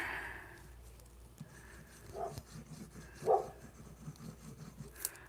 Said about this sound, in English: Apologize for our neighbor's dog barking.